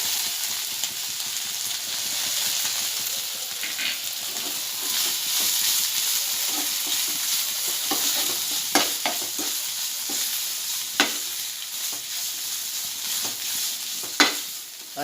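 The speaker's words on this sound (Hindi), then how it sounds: "और अच्छे से हिलाऊंगी ताकि हल्दी सब जगह लगे" Chicken filling with turmeric is stirred in a frying pan, a steady sizzle running throughout with sharp spoon scrapes and taps against the pan, louder near the end.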